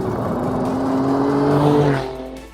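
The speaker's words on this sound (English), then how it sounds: "listen to that engine when it's on full noise. It's got that beautiful crack and farting when you back it off" A 2018 Alfa Romeo Stelvio Quadrifoglio SUV engine revving at full throttle, a loud close roar rising in pitch over a couple of seconds, then easing off, with no talk.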